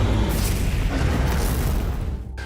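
A loud explosion from the Warhammer 40,000: Space Marine 2 video game, a heavy rumbling blast that roars for about two seconds before cutting off abruptly.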